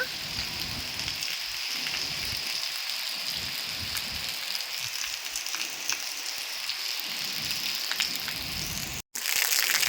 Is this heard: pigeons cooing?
no